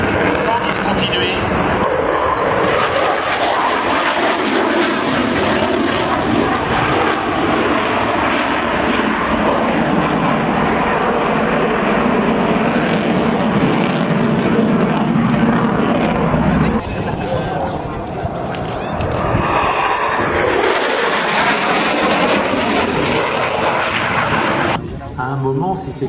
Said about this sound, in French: Si le pilote utilise sa post-combustion